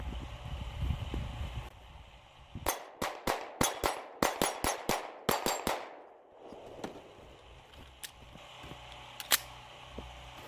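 A Taurus G3c pistol firing steel case ammo: a rapid string of about a dozen sharp, close shots in quick rhythm, then a few isolated distant-sounding pops and clinks afterward.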